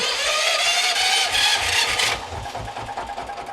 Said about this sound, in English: So, the engine has been started.